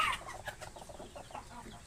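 Hens clucking in short, soft bursts while sitting on eggs to lay, a quiet and close flock with no talk.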